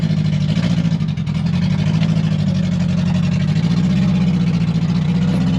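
A Ford F450 truck engine runs loud and close on a test drive, a deep, steady rumble with slight rises and falls in revs and no voices.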